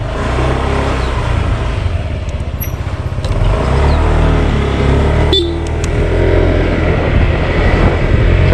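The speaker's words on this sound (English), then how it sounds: "Sorry, that was my horn, that was me." A Honda PCX scooter gives one short horn beep in the middle of a steady wash of engine and road noise outdoors.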